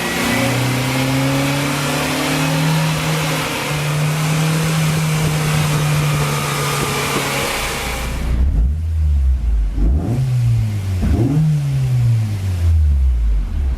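A B18C Type R engine swapped into a 2000 Honda Civic Si EM1 holds a loud, sustained high rev, then drops to a rough idle broken by several quick throttle blips.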